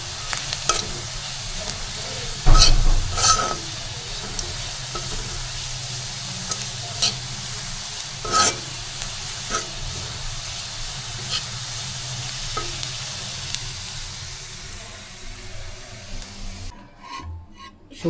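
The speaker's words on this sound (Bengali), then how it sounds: "বাগার দেওয়ার জন্য পেঁয়াজ ভাজা হইতেছে" Onions frying in oil for the tempering of nihari, a continuous close sizzle with scraping and stirring strokes throughout, dropping away in the final seconds.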